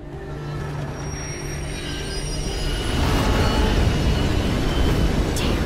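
Train wheels squeal in the Life Is Strange video game, a steady grinding rail rumble with high metallic screeches that swells louder in the second half, with no voices.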